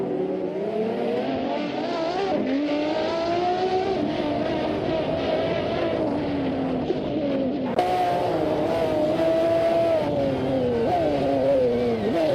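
Race cars in a racing video game, including a McLaren F1 GTR and a Lamborghini Diablo, roar continuously with rising and falling engine revs and gear shifts, loud and close throughout with no pauses.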